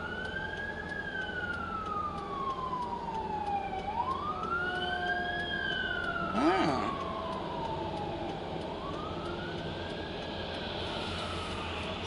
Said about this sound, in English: emergency vehicles coming from somewhere